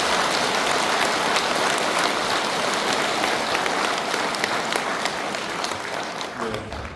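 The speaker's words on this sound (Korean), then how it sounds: "청정한 스님이 되시기를 뜨거운 박수로 다시 한번 축복드립니다" A congregation at a Buddhist Nirvana Day service gives warm applause for a monk, a loud, sustained roar of many hands clapping that stays strong before easing slightly near the end.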